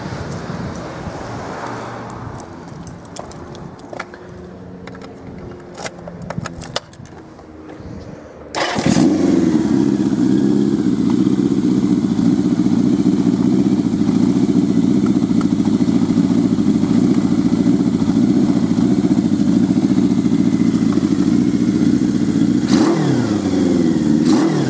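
A custom 1978 Kawasaki Z650 with a modified frame fires up after some quiet background clatter. It settles into a loud, steady, close-up idle and gives a short blip of the throttle near the end.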